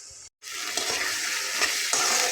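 Masoor and mung dal sizzle as they are sautéed in a pan, giving a continuous close frying hiss with soft stirring scrapes after a brief silent break near the start.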